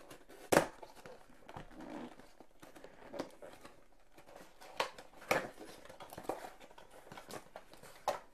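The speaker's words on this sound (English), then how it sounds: "So let's do some unboxing." A circuit board holder comes out of its packaging, with soft crinkling of plastic and paper and several sharp handling clicks and knocks scattered through a quiet room.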